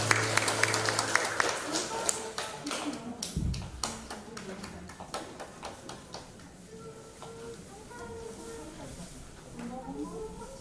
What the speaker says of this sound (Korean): 예배를 받으신 하나님께 감사와 영광의 박수를 올려드리겠습니다